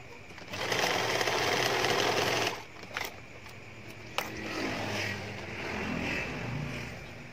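A sewing machine stitches fabric with elastic in a steady whirring burst, pauses briefly, then runs again more softly and unevenly.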